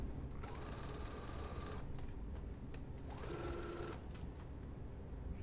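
A sewing machine stitches the neck and shoulder seams of a bodice lining in two separate runs, each a steady, quiet mechanical whir, with a short pause between them.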